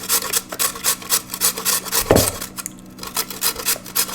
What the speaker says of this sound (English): We're not going to slice the onion or the potatoes, we're actually going to grate them